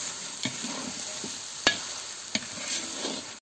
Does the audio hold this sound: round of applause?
no